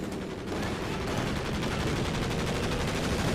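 Strafing-run gunfire from the video game Company of Heroes 2: a dense, continuous rattle of rapid shots holding steady and loud for several seconds, with no talk over it.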